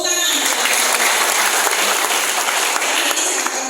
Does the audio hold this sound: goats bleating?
no